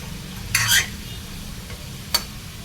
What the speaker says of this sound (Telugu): దొండకాయ ముక్కలకి సరిపడే సాల్ట్ వేసుకొని వేయించుకోవాలి